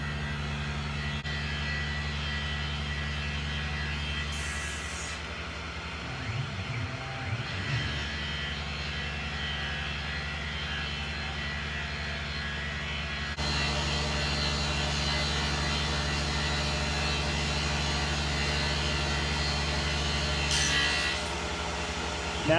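A Tormach Titan CNC mill runs a finish pass, giving a steady low machine hum with a brief wavering cutting tone partway through. The sound is fairly quiet and continuous, briefly rising near the end.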